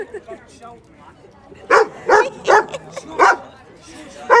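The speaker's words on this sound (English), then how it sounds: "these 2 dogs" Two dogs barking outdoors at a street demonstration, a burst of five loud, evenly spaced barks following quieter background voices and yips.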